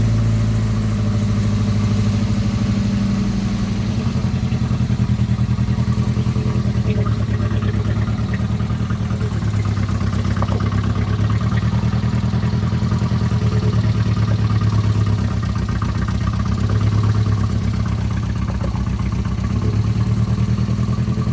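A car with a freshly rebuilt engine pulls away in reverse as the clutch is eased out, a steady low mid-pitched engine drone with light clatter, close and continuous with no talk.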